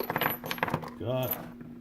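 Long screws and an Allen wrench clink lightly against each other as they shift in their package, a few quick close metallic taps and one brief ringing chime.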